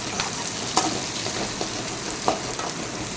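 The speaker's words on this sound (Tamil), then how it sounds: "எண்ணெய் காய்ச்சதும் கடுகு போட்டுக்கலாம், கருவேப்பிலை போட்டுக்கலாம், வெங்காயம் போட்டுக்கலாம். நல்லா கிளறி விட்டுக்கலாம்." Mustard seeds, curry leaves and onion fry in hot oil with a steady close sizzle, punctuated by a few sharp clicks and pops of the stirring spoon against the pan.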